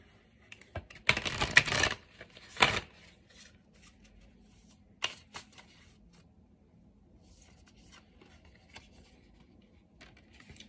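Tarot cards shuffled from a deck, a dense burst of riffling near the start followed by a shorter burst and a few sparse flicks and taps, close and quiet with no talking.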